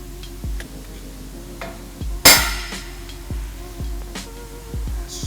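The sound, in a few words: hammer tapping a pipe spool for fitting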